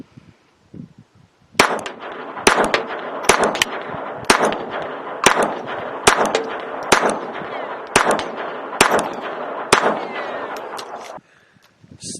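A Ruger LCP II .22 pistol loaded with 40-grain lead round-nose ammunition fires about a dozen sharp shots at a steady pace, loud and close, each crack ringing out over a faint hiss.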